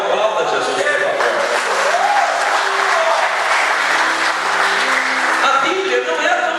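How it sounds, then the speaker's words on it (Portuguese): A church congregation applauds in a steady, full roar of clapping, with voices and cheers mixed into the crowd noise. "Então aplauda Jesus, por favor"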